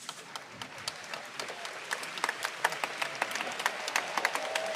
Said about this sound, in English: Big cheer for both competitors